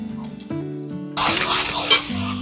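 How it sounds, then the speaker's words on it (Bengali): Flat bean paste being fried and stirred dry in a pan for sim bhorta, a steady close sizzle with scraping strokes, starting quieter with tonal background then turning louder and denser partway through. "এখন শিমের পেস্টগুলো আমি ভাজতে ভাজতে একদম শুকনো করে নেব।"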